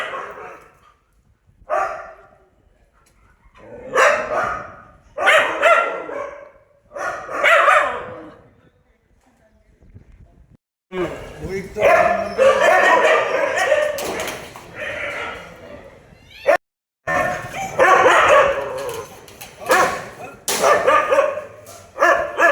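Several puppies at a stray dog shelter yap and bark in repeated bursts, close and loud, with short pauses, then a denser stretch of overlapping barks and whimpers.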